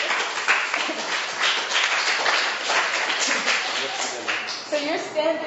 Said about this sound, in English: Round of applause for our brave volunteers